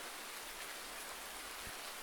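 Steady broadband rain hiss from Farming Simulator 19 weather on a cattle farm, constant and even throughout with no talk over it.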